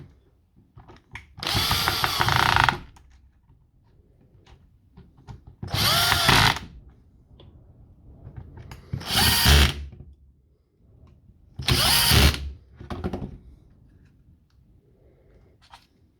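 Milwaukee cordless grease gun motor whirring in four separate bursts of about a second each, with short quiet gaps and faint handling clicks between them, close and loud.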